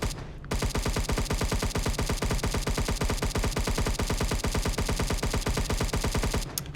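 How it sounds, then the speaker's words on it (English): Rapid-fire gunshot effect from a Roblox game in development, a long unbroken burst of evenly spaced loud shots, alone with no talk. "every time we shoot, we should get that shooting sound"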